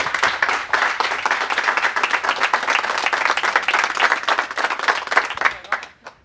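An audience applauds the Sultanije choir of the Yverdon congregation in Switzerland with dense, sustained clapping that fades out at the end, and no voices over it.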